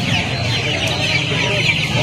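Chickens at a crowded poultry market cluck and chatter in a dense, continuous din, with many birds calling close by at once.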